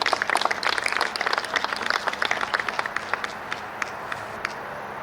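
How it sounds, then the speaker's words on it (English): A crowd at a mayor's State of the City address applauding with dense, rapid clapping that gradually thins and fades toward the end. "I was glad to hear applause"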